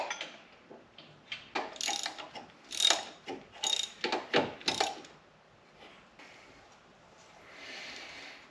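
A ratchet wrench on extensions, used while reinstalling a Subaru EJ25 engine, clicks in quick, close bursts of varied length, then pauses and gives a fainter scrape at the end.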